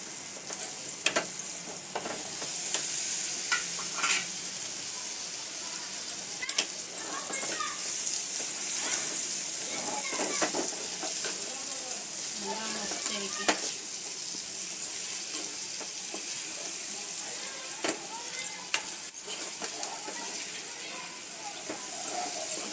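Pods frying in a pan with a thick, reduced mixture, stirred steadily, giving a continuous close sizzle with scraping spoon strokes throughout.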